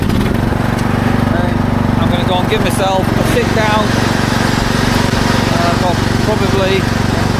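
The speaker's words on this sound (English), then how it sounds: "Right, I'm going to get the mower back on." A Husqvarna mower cutting grass on sports pitches drones loud and steady, while someone talks close by over the engine noise.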